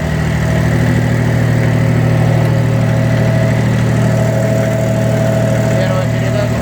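A Hinomoto C174 mini tractor engine runs close and loud with a steady, even throbbing drone that holds at a constant speed throughout.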